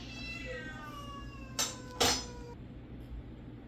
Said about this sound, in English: we were so rudely interrupted by cats not agreeing with each other